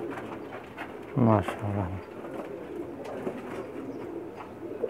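Pakistani pigeons coo on a rooftop loft in Jeddah, Saudi Arabia: a short burst of deep, rolling coos sounds up close early on, then softer bird murmurs continue beneath a man's brief spoken remark.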